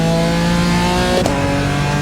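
BMW M4 in a Nürburgring racing simulator accelerating hard out of a slow corner, a loud, close, steady engine drone with a brief blip partway through.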